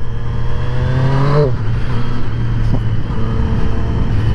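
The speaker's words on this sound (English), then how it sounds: "Can you hear that note, that exhaust note though?" Triumph Street Triple RS motorcycle exhaust note while riding, a loud close growl that climbs in pitch through a rev and drops sharply on a shift, then settles into a steady rumble.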